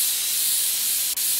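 Compressed air sprays dust off PC parts in PC Building Simulator, a steady loud airy hiss running without pause through the whole clip, with one tiny break near the end.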